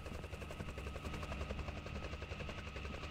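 Helicopter in The Devil Inside game, a steady rapid rotor chop thudding continuously and loudly throughout with no voices.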